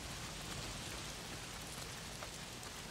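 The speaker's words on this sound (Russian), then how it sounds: "Проклятый дождь. Если не фрики, так обязательно дождь. Почему с неба все время льет?" Steady rain falling in the video game Days Gone, a dense, even hiss of drops pattering on surfaces, continuous and fairly soft with no voices over it.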